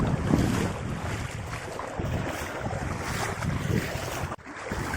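Floodwater rushes in a broad continuous wash after torrential rain, a steady roar with wind buffeting the microphone and no voices.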